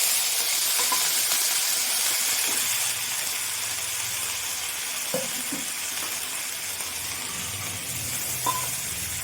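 Ginger-cumin paste sizzles and fries in hot oil already seasoned with black cumin, a steady close hiss with occasional stirring clinks and small pops, no voices.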